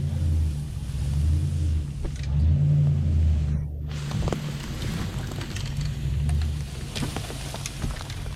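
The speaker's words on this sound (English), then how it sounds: "I decided to just leave the tire off and run it on 3 tires." An old vehicle with one tire removed runs on three tires, dragging and rolling along the ground in the woods, giving a steady loud low rumble and engine drone with scraping noise and no talking.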